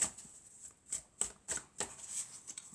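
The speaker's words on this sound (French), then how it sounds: "Alors, on va prendre quelques cartes." Tarot cards being shuffled and drawn, a run of soft papery riffles and flicks in a quiet room, close and faint, with no talking.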